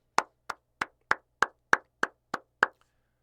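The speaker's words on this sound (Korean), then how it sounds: "박수." Nine crisp, separate hand claps ring out in a slow, even rhythm, sharp and close with silence between them, sounding more like a few people or a single pair of hands than a full audience.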